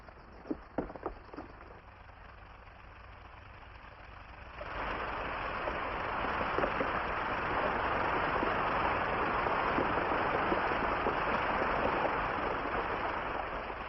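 Water rushes through an irrigation head gate after its top planks are pulled, starting as a low flow and swelling into a steady, loud roar that holds to the end.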